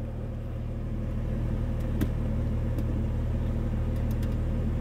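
A 2020 BMW M340i sits running in drive, a steady low engine rumble heard from inside the cabin with a few faint clicks, no one talking.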